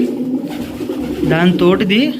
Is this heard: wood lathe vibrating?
no